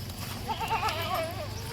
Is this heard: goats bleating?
yes